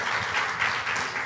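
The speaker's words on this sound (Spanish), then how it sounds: "Un aplauso, iglesia, a las visitas." A church congregation applauds visitors at a Spanish-language service, steady broadband clapping that fills the short moment with no talk over it.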